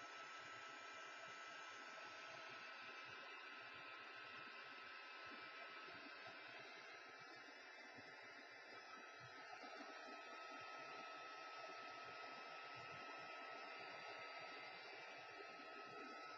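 A hair dryer blows steadily to dry gesso on an altered mixed-media canvas, a continuous even whirring hiss that runs unbroken throughout, fairly quiet and with no talking.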